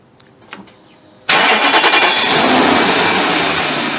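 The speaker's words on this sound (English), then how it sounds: "So let me go and start the car." A BMW 740 engine, in for timing chain guide repair, cranks briefly and fires into a loud, steady running roar that holds to the end, with a few faint knocks before the start.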